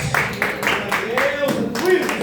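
A church congregation claps in rhythmic, fairly close applause, with steady regular hand claps and voices speaking and calling out over it.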